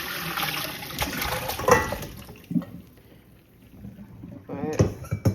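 Water poured out of a cooking pot of cow foot and beans being rinsed, heard as bursts of splashing and sloshing liquid with pauses between them, close and moderately loud, while someone speaks.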